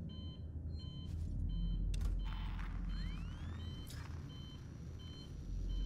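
Repeated electronic beeping inside a Sci-Med Tower transit in the video game Alien: Isolation. Steady tones pulse in a regular rhythm over a low mechanical hum, with occasional rising whirs.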